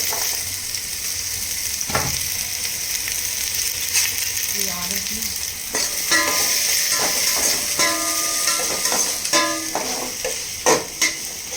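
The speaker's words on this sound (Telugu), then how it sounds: "హీట్ అయినాక మా పచ్చిమిర్చి, ఆనియన్స్ వేద్దాం" Green chilies and onions frying in hot oil for chicken biryani, with a constant close sizzle, a spoon stirring and scraping against the pan, and a few sharp metallic clinks toward the end.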